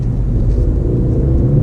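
A Ford hot hatch engine accelerating hard through the gears, heard from inside as a steady, loud, low rumble with no talking.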